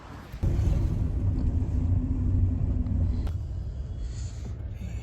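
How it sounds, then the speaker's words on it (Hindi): Steady road traffic on a mountain route toward Sonamarg, a continuous loud vehicle rumble that starts abruptly and rolls on without a break, with no voices over it. "Full traffic."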